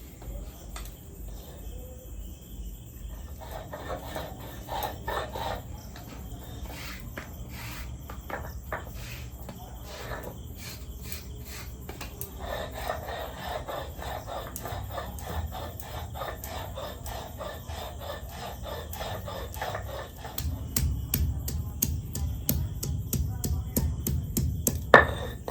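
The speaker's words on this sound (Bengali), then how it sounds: "আমি প্রথমে সমস্ত মশলাগুলোকে বেটে নিই।" Green chili, ginger, garlic, onion, tomato and cumin are ground into a spice paste, giving an irregular scraping and grinding texture that grows louder and more rhythmic toward the end, with faint voices now and then.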